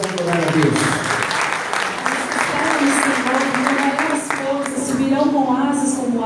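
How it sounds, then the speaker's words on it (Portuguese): A Baptist church congregation claps during a Sunday worship service, a continuous patter of many hands under a loud voice and sustained musical tones. "Aplauda ao Senhor com alegria."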